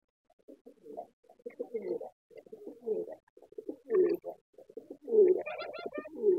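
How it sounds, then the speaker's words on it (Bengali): A male homing pigeon coos in repeated low, throaty phrases, close and clear, with soft wing or movement sounds between calls. "এই যে আমাদের বিউটি হোমাটা দেখেন, এটা নর কবুতর"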